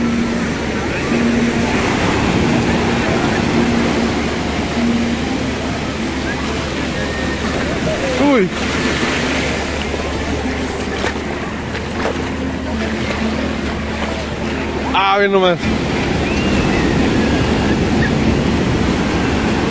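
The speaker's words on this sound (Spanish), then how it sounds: "Ven hasta dónde viene el oleaje." Strong ocean surf from a heavy swell breaks at Caleta and Caletilla beach in Acapulco, a loud continuous roar of crashing water that fills the whole scene while people speak briefly nearby.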